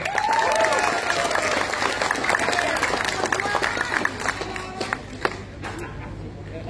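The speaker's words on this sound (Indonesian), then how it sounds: "Tepuk tangan untuk mereka bertiga." An audience claps at a rally, with broad crowd clapping and some movement noise that start loud and gradually thin out toward the end.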